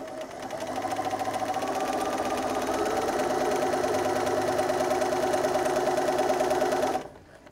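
A sewing machine chain pieces quilt squares for a pineapple chunks quilt block, running at a steady fast rhythmic whir for about six seconds before stopping abruptly, close and alone.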